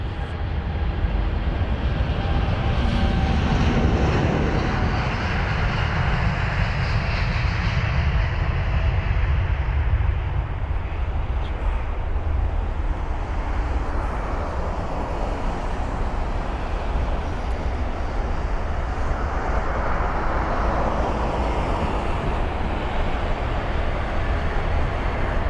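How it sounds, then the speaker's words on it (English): British Airways Boeing 787 Dreamliner departing London Heathrow, a loud continuous roar of jet engines with a rising, sweeping rumble that stays heavy throughout and fades slightly toward the end. "That was the 787 Dreamliner of BA"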